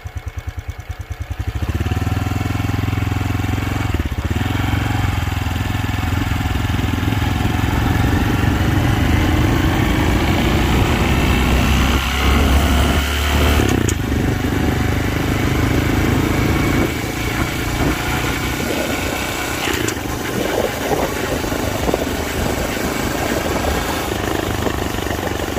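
A Honda Trail 125 motorcycle with no clutch lever runs steadily on a test ride, its engine note loud and close, rising and falling with throttle for about twenty-five seconds, with wind rush and no talking.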